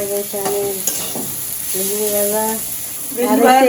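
Sliced okra (bhindi) sizzles and crackles while frying in a home kitchen pan, with occasional scraping stirs; a voice talks intermittently over the constant hiss.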